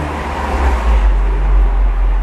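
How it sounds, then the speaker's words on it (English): Constant road traffic rumbles loud and close outside, a heavy low drone with vehicles passing, and no voices over it. "Sorry about the sound of the traffic"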